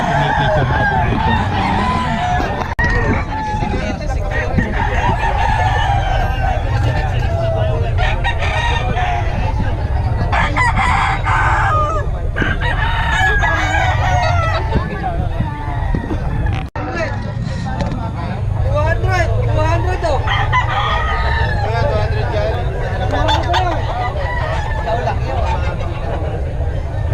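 Roosters crow and cluck at a poultry market in Bocaue, several birds calling at intervals amid steady crowd noise and talk.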